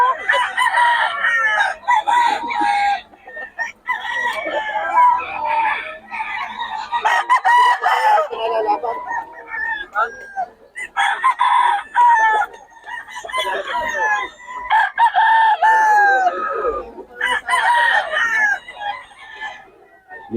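Chickens cluck and roosters crow repeatedly nearby at a market, several birds calling over one another in an almost continuous, lively chorus.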